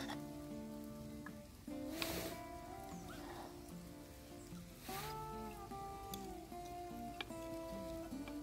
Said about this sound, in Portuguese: Começou a chover.